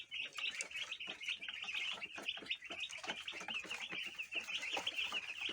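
Young chicks in a new coop peep continuously, a flock of overlapping high, thin cheeps, fairly faint and close, with no talk.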